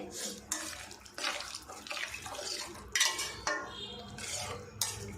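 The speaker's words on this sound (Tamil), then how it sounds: "ஒன்றரை கப் அளவுக்கு நான் தண்ணி சேர்த்துக்கிறேன்" Water is poured into a pot for chana kurma and stirred with a metal spoon, giving splashes, sloshing and several clinks and scrapes against the pot, close and fairly quiet.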